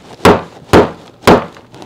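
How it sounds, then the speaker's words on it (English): Crumbly dry potter's clay is snapped apart by hand into chunks, giving three sharp, close cracking breaks spaced about half a second apart with brief crumbling trails. "a lot of this is crumbly enough that I can break it by hand into large enough pieces to go through the mill"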